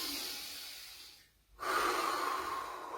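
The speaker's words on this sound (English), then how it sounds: "a couple of deep breaths" Deep breaths taken during a morning mobility exercise session, a soft airy inhale and exhale with a brief pause of near silence midway, close and steady with no talking.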